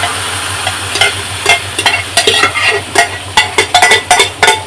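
Jackfruit curry poured into hot oil in a wok, giving a loud close sizzle with repeated sharp crackling bursts and scraping stir strokes, with no talking.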